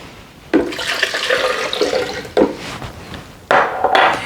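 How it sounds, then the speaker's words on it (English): Water pours into a blender in three separate bursts, each a splashy, gurgling rush close by, with quiet pauses in between. "Now I'm adding 2 cups of water."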